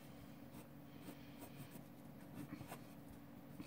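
A Color Eno soft blue mechanical pencil sketches on paper, faint, close scratching strokes in short irregular bursts over a low background hum.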